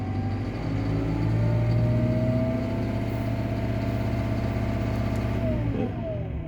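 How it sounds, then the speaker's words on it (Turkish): An engine revving on its own, settling into a steady mid-pitched drone with a slight rise and fall in pitch, loud and close with no voices over it. "Kendi kendine gaz vermeye başladı."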